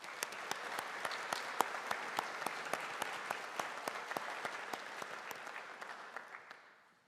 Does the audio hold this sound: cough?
no